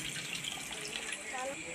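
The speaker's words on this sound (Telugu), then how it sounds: "మళ్ళీ వాటర్ పోసుకోవాలి" Water splashes from a stream into a cooking pot of eggplant curry with tamarind, a soft, continuous gushing pour, close but low in level and short.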